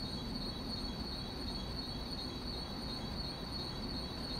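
Long Island Rail Road train pulling away, a continuous rumbling roll topped by a thin, sustained high squeal of wheels on rail, steady and fairly loud, with no voices.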